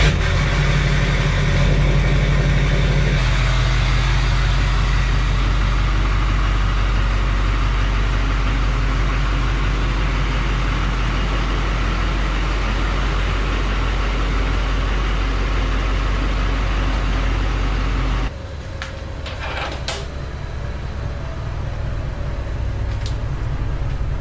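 A Duramax diesel truck engine idles steadily and loud, with a deep rumble that holds constant, then drops in level near the end as the truck moves off or the position shifts.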